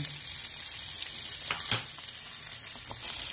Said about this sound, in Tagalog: i-fry muna natin ang salmon